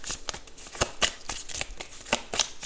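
Tarot cards from a self-care deck are shuffled and handled, giving a run of crisp, rapid riffling snaps and flicks up close, with no talking.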